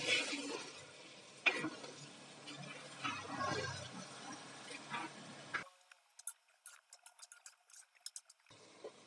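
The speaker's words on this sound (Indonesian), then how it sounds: "Aduk-aduk." Scraping and stirring of chicken feet and chicken pieces in a pot for chicken kabsa, with a steady sizzle underneath, followed by a quieter stretch of sparse clicks and taps.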